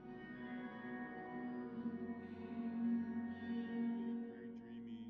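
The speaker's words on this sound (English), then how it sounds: "So this reverb goes into the hall reverb, which is a large organ church setting." Soft sustained music drenched in a large church-style hall reverb, tones blurring into a long washy tail with a spacious, echoing quality.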